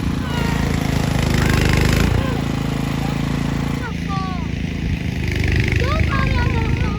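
A snow blower clears snow during a New York snowstorm: a steady, close mechanical engine drone with a rough rhythmic churn that briefly dips before resuming, while people talk over it.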